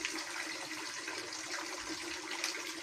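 Turmeric water being poured into a liquid organic fertilizer mix, a steady, faint splashing pour of liquid with no voices.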